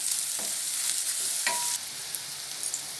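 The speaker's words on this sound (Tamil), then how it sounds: "வெங்காயம் இந்த ஆயிலே ஃப்ரை ஆகி வரட்டும்." Oil sizzles and crackles steadily as onions fry in a pan, with a few soft clinks and stirring sounds; no one speaks.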